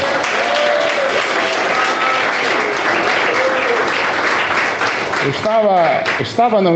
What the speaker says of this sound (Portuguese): Quem bate palmas?